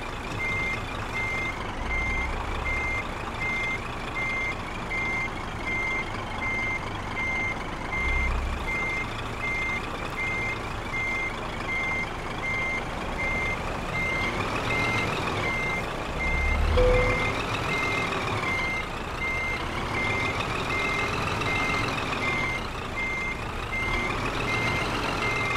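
A truck reversing in Euro Truck Simulator 2 sounds a steady, evenly spaced series of high electronic backup beeps over a low diesel engine rumble and occasional air-brake hiss, close and continuous.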